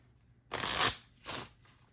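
Two quick riffling bursts of playing cards being shuffled, close up, the first longer and louder, the second shorter, in a quiet room.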